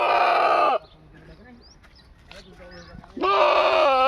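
Two loud, close bleats from a Beetal breed goat, one at the start and one at the end, separated by a quieter stretch of faint background noise.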